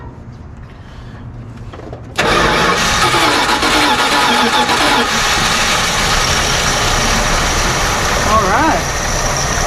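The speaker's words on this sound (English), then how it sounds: "Hey, it runs." An abandoned 1978 Dodge Ramcharger, left sitting for 17 years, cranks and fires up abruptly after a quiet moment, then settles into a loud, rough, steady idle up close, with someone speaking briefly before it starts.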